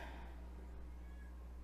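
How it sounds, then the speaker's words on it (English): A cat howls in a low, drawn-out meow over a constant electrical hum, faint and close, with no talking. "cat's howling."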